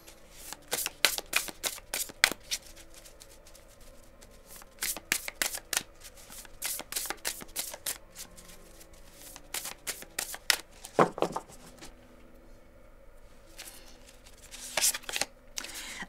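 Tarot cards being shuffled for a reading, in repeated brisk riffling bursts separated by short pauses, close and crisp with no talking.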